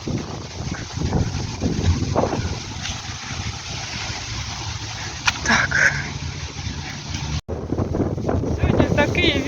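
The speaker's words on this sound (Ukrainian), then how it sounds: "Дує вітерець." Wind buffets the microphone in steady gusts in a park in Troieshchyna, with a low rumbling roar throughout, with a brief dropout near the end.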